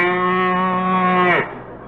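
A cow moos in one long, loud, sustained low call, bending downward at the end, heard in a radio comedy show broadcast from USC.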